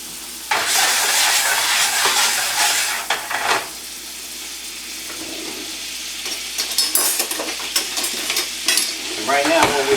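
Brown sugar and four tablespoons of butter melting in a pan for a French toast sauce: loud, steady sizzling and hiss that breaks briefly, then returns with crackling spatters and stirring.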